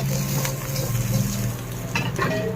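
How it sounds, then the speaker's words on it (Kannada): Egg frying in hot oil in a pan with gobi and masala, a steady close sizzle with scraping and stirring clinks of a utensil against the pan throughout. "ನೋಡಿ ಎಗ್ ಬೇಯ್ತಾ ಇದೆ"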